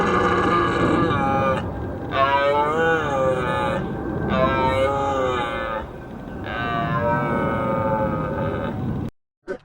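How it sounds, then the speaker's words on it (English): Long, deep, groaning bellows of a red deer stag repeat in drawn-out bouts with short gaps, loud and close, then stop abruptly, in Norway. "what I heard was a red deer"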